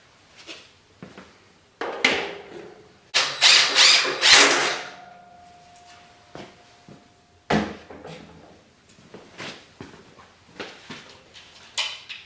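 A compact power drill drives screws into homemade guide rails for chainsaw milling, with several short bursts of whirring that rise to a loud run partway through, separated by pauses and handling clatter.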